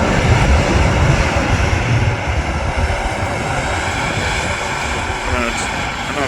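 An Air Transat airliner taxiing at Manchester Airport gives a steady, broad engine rumble and whine that holds evenly throughout, with some background noise layered over it.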